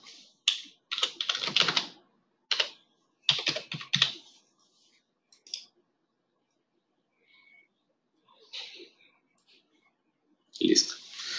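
Password typed on a computer keyboard, with quick close bursts of key clicks separated by pauses.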